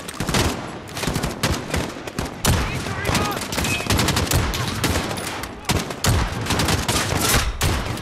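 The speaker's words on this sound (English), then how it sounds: "Yo, who is shooting me?" Dense gunfire rattles in the Modern Warfare campaign, with rapid bursts and single shots crackling one after another, loud and close, as a voice exclaims over the shooting.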